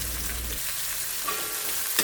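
Sliced onions hit hot oil after mustard seeds in a home kitchen, giving a loud continuous sizzle and frying hiss with a brief stirring scrape near the end.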